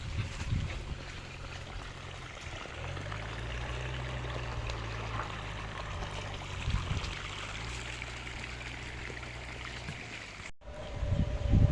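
Irrigation water flowing steadily across a farm field planted with young cashew saplings, a continuous close stream-like rush and trickle with a low engine-like hum underneath, then a brief cut and louder rumble near the end.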